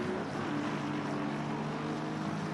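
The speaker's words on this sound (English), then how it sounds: "Thought I heard a car idling there." In a GT3 championship racing video game, a car engine idles with a steady low drone and faint tonal hum, constant and unchanging throughout, with no talk.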